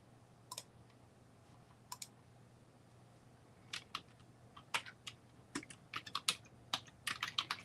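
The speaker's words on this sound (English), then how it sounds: "I'm just typing the word freezing" Someone types on a computer keyboard with sparse, quiet clicks at first, then quicker clusters of keystrokes near the end, heard alone in a quiet room.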